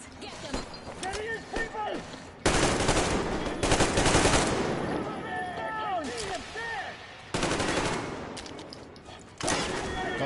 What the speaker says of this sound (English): Why do the guns sound so satisfying in this game?